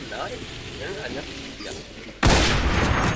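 Sniper gunfire in the video game The Decaying Winter: a single loud, sudden shot cuts in late, ringing out over a noisy muffled background with talk underneath.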